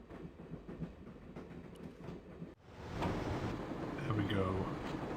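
Train in the video game Broken Sword: The Shadow of the Templars Director's Cut rolling with a steady rumble and clatter, briefly cut off then returning louder and closer, with speech over it.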